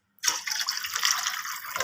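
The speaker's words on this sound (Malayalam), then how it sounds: "വെള്ളം ഒഴിക്കുവാണ്." Water pours into a pan in a home kitchen, a brief steady splashing stream that starts suddenly and continues close to the microphone without voices.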